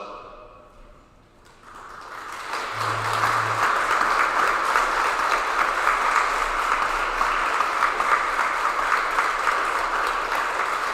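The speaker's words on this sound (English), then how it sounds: "please stand so that we can give you a much-deserved round of applause" A school assembly audience applauds veterans on Veterans Day, steady broad clapping swelling in after a brief quiet start and continuing evenly through a large room.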